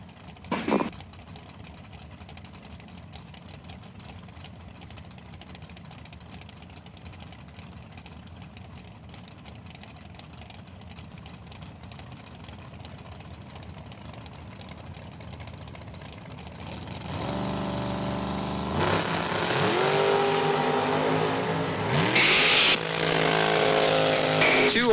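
Drag racing dragster engines at a dragway ET finals event, a steady idling drone for most of the stretch before the revs rise sharply and the engines roar louder near the end.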